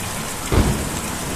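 Steady rain pours in a stormy night scene from the game Kentucky Route Zero, with a brief low thunder rumble rising midway through the constant hiss.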